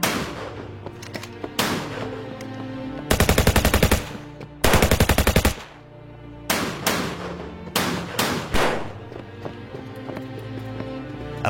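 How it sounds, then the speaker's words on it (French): Gunfire in an open shootout: loud rapid automatic bursts cut through two long stretches, with scattered single shots and a steady rumbling bed around them. "La soirée a tourné en une fusillade ouverte."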